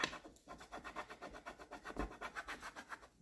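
A tool scrapes across the backing of a sheet of permanent vinyl in quick, rhythmic back-and-forth strokes, about eight per second, soft and close up with no talking.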